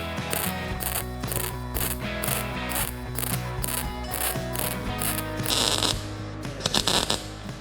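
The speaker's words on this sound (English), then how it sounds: "I'll just spot weld all the way down one of these stitches just to see what it would look like." A MIG welder stitch-welds thin metal in short spot bursts, giving a steady crackling buzz with regular on-off pulses, loud and close, with no talk.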